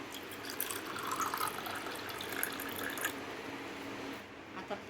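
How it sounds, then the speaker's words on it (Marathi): Water pours into a glass in a quiet, continuous trickle with faint splashing, fading out near the end, with no talking. "ग्लासमध्ये पाणी घेऊया"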